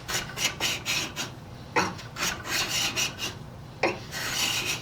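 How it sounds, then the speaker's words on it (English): A Stanley number 80 cabinet scraper rasps across wood in repeated short strokes, each a rough, close scraping rub as it lifts shavings. "It takes off shavings too."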